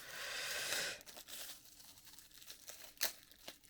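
A sticker peeled off a balisong knife gives a brief, close crinkling tear lasting about a second, followed by a few faint, sharp clicks and handling sounds.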